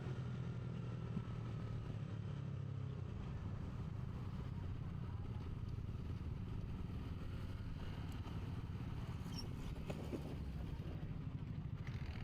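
A motorcycle engine rumbles steadily nearby at a checkpoint, a continuous low drone with faint clatter, with no clear rise or fade.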